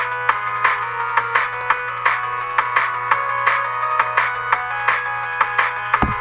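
A drum and bass melody plays back as a bright, synthetic repeating riff of evenly spaced plucked notes over a steady low tone, with a brief low thump at the end.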